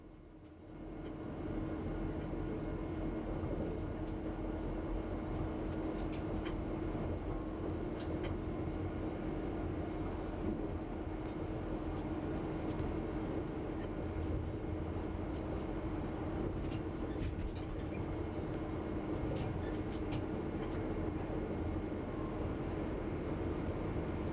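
A locomotive-hauled Talgo train running on the line from Girona toward Barcelona, heard from the driver's cab of a class 252 electric locomotive: a steady, continuous rumble and hum of motion with faint rattles, loud throughout.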